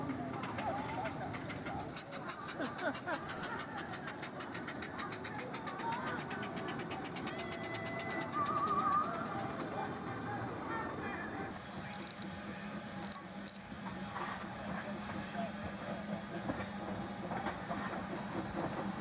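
Steam locomotive Harrogate running past Oak Tree Station on the Statfold Barn Railway, a steady rhythmic chuffing and hiss passing near, with birds calling in the background and a brief whistle-like tone midway.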